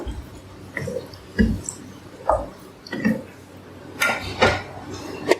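A spoon stirring yogurt and lemon juice into rice in a cooking pot, heard as scattered wet squelches and soft metallic knocks against the pot, irregular and close, with no one speaking.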